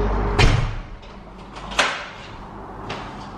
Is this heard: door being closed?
yes